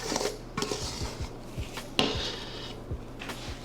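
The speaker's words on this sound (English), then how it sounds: "Scrape this out of our bowl." Wet dough is scraped out of a mixing bowl with a utensil, producing a series of close, soft scrapes and knocks against the bowl with a low background hum.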